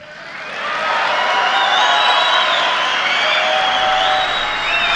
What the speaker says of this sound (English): I want to be sure to have you hear the audience cheering